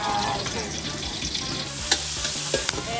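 Garlic frying in a pan at a seafood restaurant, with a dense continuous sizzle, occasional stirring clinks and scrapes, close and fairly loud, no talking.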